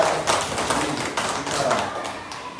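Children in a classroom clap their hands together, a loose, uneven patter of many small claps and taps at moderate loudness.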